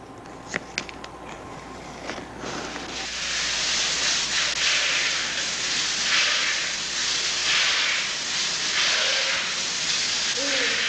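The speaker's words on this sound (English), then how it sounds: "High-pressure sprays are used to stimulate the body" Steady high-pressure water spray hisses broadly and continuously for a spa body treatment, starting with a few sharp crackles and then swelling into a loud, even rush that holds throughout.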